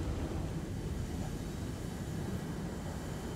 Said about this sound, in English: Enemy jet. Friendly jet. I hear a jet though.